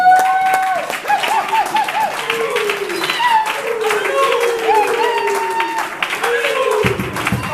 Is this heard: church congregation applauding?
yes